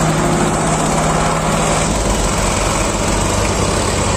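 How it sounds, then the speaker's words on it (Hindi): A tractor engine runs loud and close while pulling out another stuck tractor, a steady, unbroken rumbling drone with no talking. "ये वाला ट्रैक्टर निकाल रहा है इसे।"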